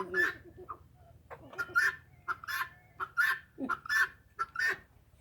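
Iranian geese give repeated honking calls in a quick irregular series, close and fairly clear against a quiet outdoor background.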